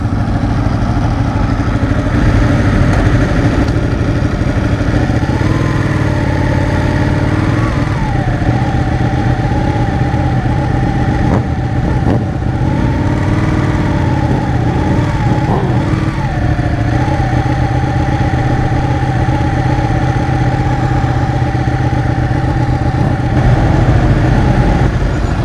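Several motorcycles rumble through a steady night group ride, including a Ducati 1199, their engines droning loud and constant close by with slight shifts in pitch and no talking.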